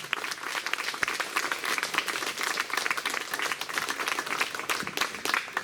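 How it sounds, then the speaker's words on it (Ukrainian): Audience at the official opening of a Taras Shevchenko festival applauds a regional official, a continuous, lively clatter of many hands clapping that holds steady throughout. "Під ваші оплески, пане Олександр"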